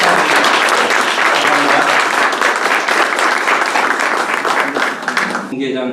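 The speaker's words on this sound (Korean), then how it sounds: "네, 큰 박수 부탁드립니다." Loud, sustained applause from the audience at a ROTC social contribution group's 2024 general meeting, dense clapping filling the room for several seconds before cutting off abruptly near the end.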